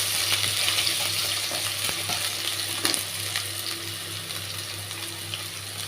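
Potatoes frying in a pan with tempered spices, stirred with a spatula: a steady close sizzle with occasional scraping and clinks, no voices.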